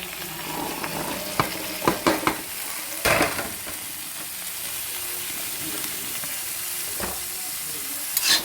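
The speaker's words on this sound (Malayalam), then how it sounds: "ഈ സമയത്ത് നമ്മൾ ഈ കോളിഫ്ലവർ അങ്ങോട്ട് ഇട്ട് കൊടുക്കുക." Cauliflower and potato pieces go into a pan of frying onions and chillies for a peppery Kerala stir-fry. A constant sizzling hiss sits under a series of clattering knocks and spatters, with one louder burst midway and another near the end.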